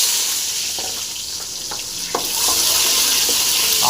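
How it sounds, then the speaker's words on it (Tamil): Shallots dropped into hot sesame oil in a pan, a loud continuous sizzle that swells after a brief clatter midway, with faint stirring ticks and no speech. "சாம்பார் வெங்காயம் போட்டுடலாம்."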